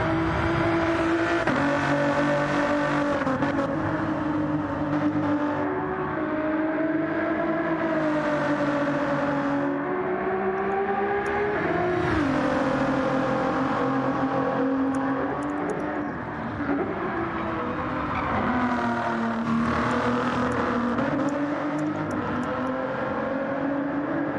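Race cars in Gran Turismo scream along continuously, several engines layered in a loud, sustained whine that rises and dips with gear changes and passing cars across a long stretch of racing.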